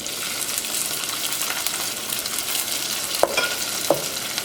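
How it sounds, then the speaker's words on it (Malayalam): Green chillies and onions fry with cumin in a pan, producing a steady, close sizzle with stirring, and a couple of sharp scrapes near the end. "ഇതിലേക്ക് പച്ചമുളകും സവോളയും ചേർക്കാം"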